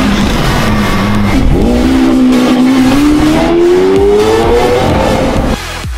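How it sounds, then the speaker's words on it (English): A Lamborghini Aventador SV Roadster supercar drives past in London, its engine roaring loudly with a rising, revving pitch as it accelerates, then dropping off abruptly near the end. "Here's another Aventador SV. This one a roadster, meaning convertible."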